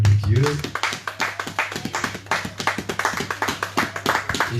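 A church congregation at a Sunday service claps in quick rhythmic unison, sharp hand claps repeating steadily, while a voice speaks over the start.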